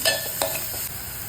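Tomato and onion frying with salt in a pan, giving a close, continuous bright sizzle with a quick stir or scrape near the start, all in one brief burst.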